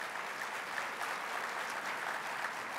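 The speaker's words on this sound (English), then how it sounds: "Give yourself a round of applause for that." Steady applause from a large audience of about 1,465 people at a State of the City address, dense and continuous clapping throughout with no voices breaking through.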